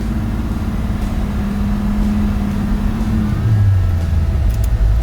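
A 1957 Chevrolet Sedan Delivery with a 327 V8 pulls away, its engine note steady and low, then the pitch shifts as it gets moving, loud and continuous with no speech.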